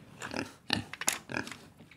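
A pig grunting and oinking up close in a quick run of rough, snorting bursts, fairly quiet and with no talking over it.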